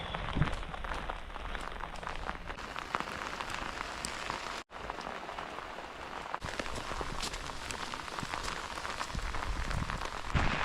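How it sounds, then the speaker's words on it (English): Heavy rain pelting down in the Scottish Highlands near Glencoe, a dense, steady roar of drops drumming on surfaces close by, continuous for the whole stretch with only a brief dip partway through. "The rain has got so hard now,"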